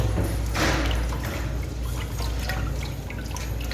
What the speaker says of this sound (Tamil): அப்படியே கழுவணும் நண்பா. இந்த மாதிரி கழுவிக்கணும்.